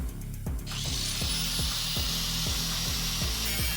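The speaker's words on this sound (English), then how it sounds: "I'm using my angle grinder with a cutting wheel." Angle grinder with a cutting wheel slicing through a metal raised bed panel: a loud, close, sustained high whine and grinding hiss over a low rhythmic motor throb, with no talk.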